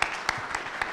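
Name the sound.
audience applause welcoming the speaker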